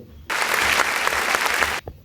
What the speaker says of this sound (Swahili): Na yeye mpigieni makofi.